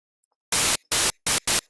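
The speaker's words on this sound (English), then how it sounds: "I use the subsynth and then I change it to white noise." White noise from a subsynth set up for a riser plays as four loud, abrupt bursts of full-band hiss separated by short silences, close and dry with nothing else present.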